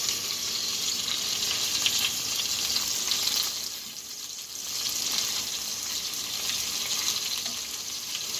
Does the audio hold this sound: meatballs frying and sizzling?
yes